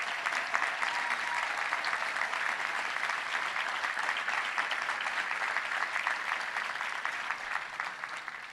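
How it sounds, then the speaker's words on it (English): Sustained applause from a crowd at a touchdown club luncheon, honoring the coaches in attendance; steady dense clapping holds at an even level throughout before easing slightly at the end. "let's give them a round of applause for all the coaches taking time to be here today"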